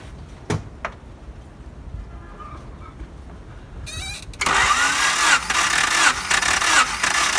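A Honda Accord or Civic engine cranked by the starter during a dry compression test, with a couple of sharp clicks, then a loud, steady mechanical whir filling the last few seconds.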